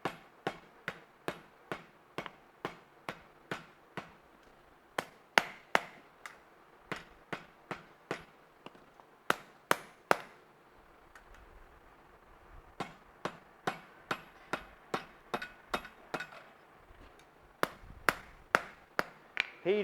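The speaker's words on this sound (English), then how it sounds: "I'm going to use my leather hammer." A blacksmith's leather hammer repeatedly strikes hot iron on an anvil during a forging demo, bending a thin section: sharp, close, evenly spaced blows in rapid runs with short pauses between.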